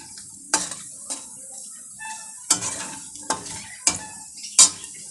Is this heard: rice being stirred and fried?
yes